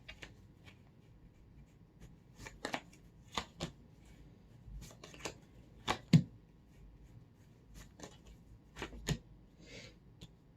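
Tarot cards being shuffled by hand, a quiet run of soft riffling flicks and taps with brief louder snaps, close and alone with no talking.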